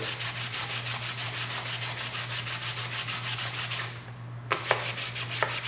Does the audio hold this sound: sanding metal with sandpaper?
yes